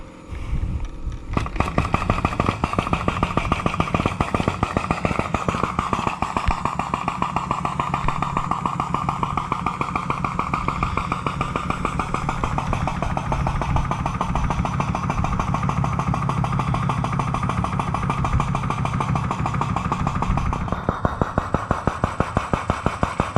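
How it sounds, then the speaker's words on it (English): A small diaphragm pump moving fuel back out of a transfer tank during repairs to a Steiger-era White 4-180 4x4 farm tractor runs continuously with a loud, rapid, steady pulsing chug, close by, with a slight shift in tone near the start and end. "This little diaphragm pump is pretty handy."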